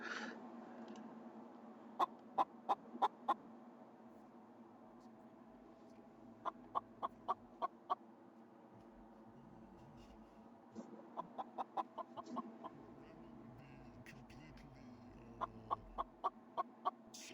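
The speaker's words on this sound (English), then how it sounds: "Or one person interacting with the chickens." Chickens in a virtual reality roleplay game give quick runs of sharp, rhythmic clucks in four separate bursts, each a handful of pecking notes, clear and near over a quiet, humming backdrop.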